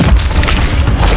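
Incendio fire spell cast in Hogwarts Legacy, a short loud booming burst of flame with heavy low rumble and no talking.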